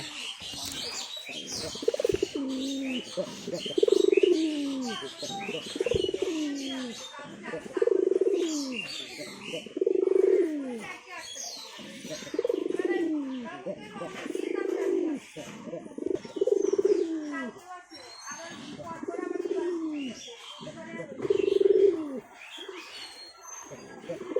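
Repeated low pigeon coos in a steady rhythm, about one every two seconds, close by, with faint chirps from other birds in the background.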